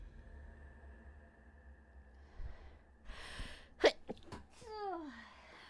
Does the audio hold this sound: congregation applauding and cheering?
no